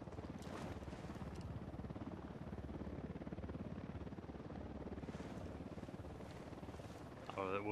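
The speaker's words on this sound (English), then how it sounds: "Only that chopper, stay low." Helicopter in the Ghost Recon Wildlands video game, a steady whirring rotor drone holding at an even level throughout, with faint game sounds rising near the end.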